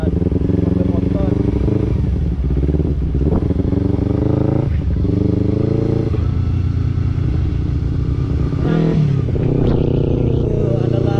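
A Kawasaki Ninja 250R motorcycle on the road, picked up by a GoPro Max's built-in microphone: a loud, continuous engine drone with shifting revs and wind rumble, with someone talking over it throughout.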